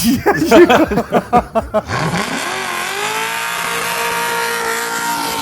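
A Ford Shelby GT350 V8 revving hard on canyon roads, with a burst of sharp pulsing throttle blips that builds into a sustained loud, rising engine roar, very close.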